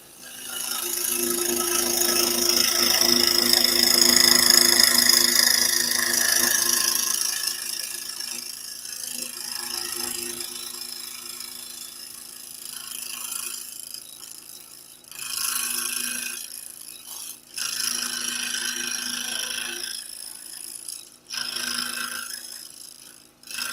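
A wooden barrel racer toy being cut along a marked line, with steady rasping back-and-forth strokes that fade after a few seconds, followed by shorter bursts of cutting and pauses between them.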